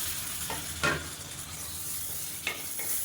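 Tomatoes sizzle steadily in a hot pan for chicken biryani while a utensil scrapes and stirs in a few brief strokes, close up, with no talking.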